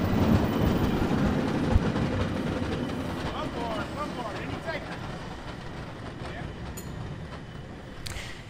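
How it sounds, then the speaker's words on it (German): A historic cable car in San Francisco rolls past with a loud, rumbling clatter and rhythmic rail clacking, close and steady, then fading slightly, while someone talks over it. "wie es der Zufall will, fährt auch bei uns gerade eine wunderschöne historische Bahn"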